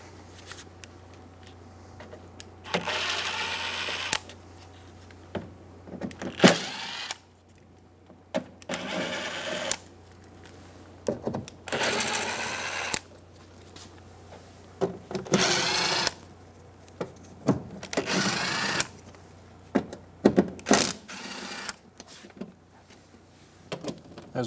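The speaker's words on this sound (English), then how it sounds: "Using a 7mm socket, we're going to go around and remove all 10 bolts around the outside" Power ratchet or drill-driven 7mm socket spinning out bolts around a 1988-1999 GMC K1500 truck door panel, in repeated short whirring bursts of a few seconds each, separated by pauses and quiet handling clicks, fairly close.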